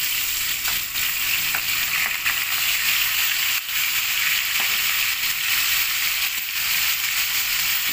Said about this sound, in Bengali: অন্যদিকে ফ্রাই চলছে